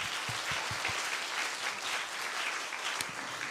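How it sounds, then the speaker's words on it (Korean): A church congregation at a Sunday service claps together, a dense, steady applause that stays loud and even throughout, with no voices over it. "하나님께 박수 한번 부탁드립니다"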